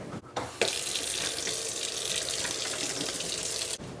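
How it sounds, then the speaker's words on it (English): Water from a tap runs steadily over hands being washed between cooking steps in a home kitchen, a continuous close hiss with a brief break near the start, then cut off sharply at the end. "just wash your filthy hands, okay?"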